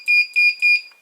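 Three loud, piercing electronic beeps from an OTIS elevator alarm button, evenly spaced and close, followed by a short fading tail.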